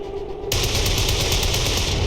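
Rapid automatic gunfire in an XCOM-style tactical video game, an overwatch shot: after a brief quiet moment, a loud burst of closely spaced shots rattles on continuously to the end.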